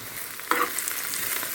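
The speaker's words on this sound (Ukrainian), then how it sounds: "Зробила зажарку." Vegetables sizzle and fry in a frying pan while being stirred for plov, a steady close hiss with a brief louder spatter burst partway through, no talking.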